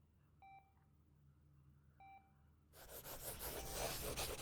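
Two separate telephone keypad tones sound clearly, a short pause between them, before a sudden burst of loud broadband rustling noise takes over the rest of the clip.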